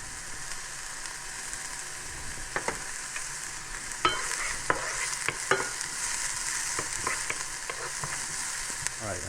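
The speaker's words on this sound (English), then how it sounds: "going to add a little olive oil to our pan, and then some shallots, like that. Okay, and then the garlic" Shallots and garlic sizzle steadily in olive oil in a pan, with a continuous hiss broken by scattered clicks and scrapes of a utensil stirring, close and unaccompanied by talk.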